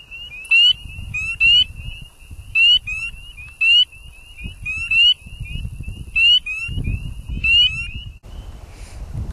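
A southern leopard frog calls in a series of short, evenly repeated chirping bursts, fairly close and clear, over low rustling background noise.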